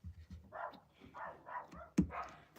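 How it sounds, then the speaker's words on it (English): Several household dogs bark in short, uneven bursts, moderately close and fairly loud, with a sharper, louder bark near the end, indoors during a live holiday crafting session. "If you can hear over my dogs."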